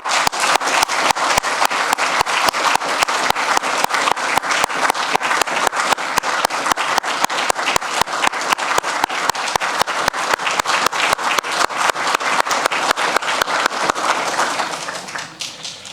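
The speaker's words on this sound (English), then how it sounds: "Please give them a round of applause." Audience applauds benefactors at a closing ceremony, a dense, sustained round of many hands clapping in an even rhythm for about fifteen seconds before fading out at the very end.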